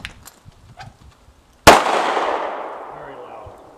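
A single sharp, loud bang from an airsoft gas insert cartridge firing, ringing off with a noisy tail, preceded by faint handling clicks.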